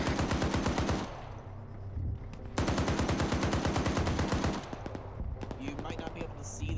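Rapid, heavy bursts from a .50 cal M2 machine gun in a video game, loud thudding rounds in long strings broken by short pauses, with a voice talking between bursts.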